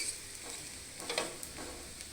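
Green gram dosa sizzles steadily in coconut oil on a hot pan, a faint, continuous crackling hiss with a few soft scraping touches, close up and with no voices.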